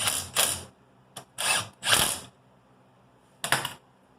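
Short ratchet bursts sound as a bracket is tightened on a 650hp Honda Civic, five separate buzzing runs of clicks with quiet gaps between them, close and fairly loud.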